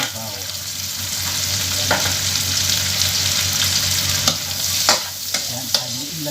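Garlic sizzles in oil in a pan while cooking pakbet, a steady frying hiss with occasional sharper scrapes and clinks of a utensil stirring.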